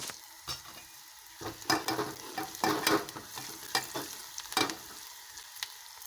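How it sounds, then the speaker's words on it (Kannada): Onions frying in a pan with turmeric powder and salt for a North Karnataka potato palya, stirred in bursts of scraping and crackling sizzle, close and fairly quiet, with no talking. "ಇವಾಗ ಅರಿಶಿಣದ ಪುಡಿ, ಉಪ್ಪು ಹಾಕಿ ಚೆನ್ನಾಗಿ ಫ್ರೈ ಮಾಡ್ಕೋಬೇಕು."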